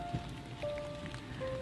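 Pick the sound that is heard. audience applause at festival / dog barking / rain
rain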